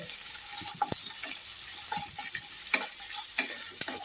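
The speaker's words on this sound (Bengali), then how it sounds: "বাদাম আলু কাঁচামরিচ পেঁয়াজ সরিষা তেল" Peanuts, potato, green chili and onion fry in mustard oil in a pan, a steady close sizzle broken by irregular scraping clicks of a stirring spoon.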